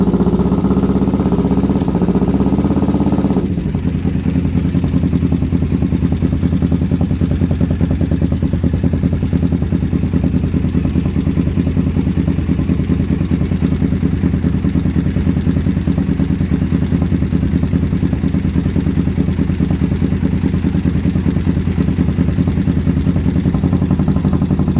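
A motorcycle engine runs steadily and loud for the whole stretch while its carburetors are balanced and the throttle is pushed down with a screwdriver, a louder rev at the start dropping to an even, clattering idle.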